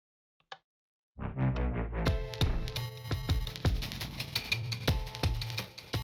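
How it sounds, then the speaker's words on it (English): A single video-game jukebox plays a music disc: a faint blip, then a melodic line that soon fills out with steady percussive beats and layered tones, loud and continuous, with no talking. "one jukebox playing this disc sounds like this"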